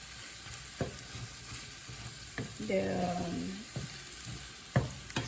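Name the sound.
stirring frozen bitter gourd with egg frying in a pan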